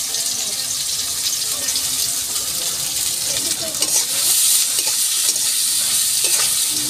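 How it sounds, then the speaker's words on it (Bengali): Onions coated with salt and turmeric frying in a hot wok, with a steady bright sizzle and some stirring and scraping throughout. "আমি এবার পেঁয়াজগুলো কড়াইতে দিয়ে দিলাম।"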